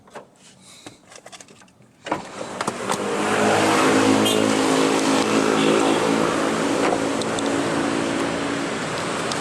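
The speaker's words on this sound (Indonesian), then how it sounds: "Mesinnya sendiri K10C kodenya, 1000 cc 3 silinder." A Suzuki S-Presso's K10C 1000 cc three-cylinder engine starts after some handling clicks, then settles into a steady loud idle hum, close by and continuous, with no talking.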